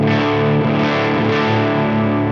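A heavily distorted electric guitar chord rings through a Helix or Fractal amp model, a loud, thick, sustained tone with no voice over it.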